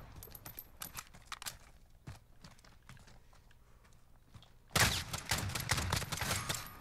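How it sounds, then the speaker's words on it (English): Hip-fired gunfire from Call of Duty Modern Warfare: quiet game clatter and footsteps, then a loud sustained burst of shooting that starts abruptly and runs to the end. "I'm just hip firing right now as well."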